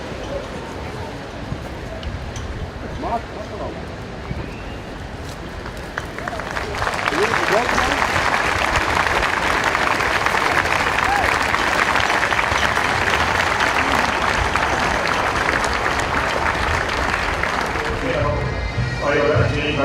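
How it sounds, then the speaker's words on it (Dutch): A large outdoor crowd at a national military parade in Wageningen breaks into sustained applause that swells after a few seconds of announcer speech and continues loudly to the end. "Ondersteunt u dat met een mooi applaus."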